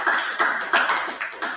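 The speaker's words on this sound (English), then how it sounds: "Can we clap for Microsoft?" Slow, evenly spaced claps at a technology bootcamp in Osun State, Nigeria, about five sharp bursts in quick succession, fairly loud and close, with no talking over them.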